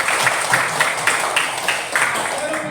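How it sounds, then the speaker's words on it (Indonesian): A classroom of students claps together, a dense crowd of hand claps in a steady patter with slight rhythmic swells, close and sustained for a few seconds. "Oke, tepuk tangan semuanya."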